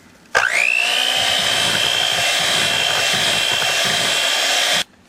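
An electric mixer beats cheesecake batter with vanilla extract and kosher salt in a bowl. It switches on abruptly into a steady, high, whirring whine for about four seconds, then cuts off, with no talking.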